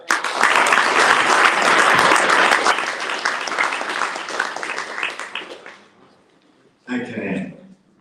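Audience applause at a startup event, a dense, loud burst of many hands clapping that fades out after about six seconds, followed by a short murmur of voices.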